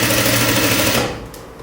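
A sewing machine stitches jumpsuit fabric in a steady, close running burst that cuts off near the end, leaving a quieter tail.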